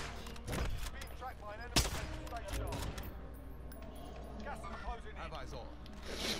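Gunfire from the video game Call of Duty: Modern Warfare on Rebirth Island, with one sharp loud shot standing out amid scattered rattling game sounds, heard under near-constant talk between players.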